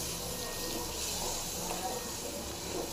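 Water is poured into a mutton boti masala cooking in a pan, a steady close trickling and splashing over background noise for a few seconds, with no one talking.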